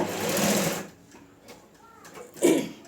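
A sewing machine stitches a blouse hem in short bursts, a brief whirring run followed by quieter clicks and another short burst, fairly close.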